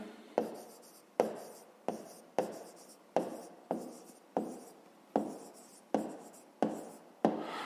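A solution to a math problem being written by hand, about a dozen crisp pen strokes in a steady rhythm, each a sharp scratch that fades quickly, close up with no talking.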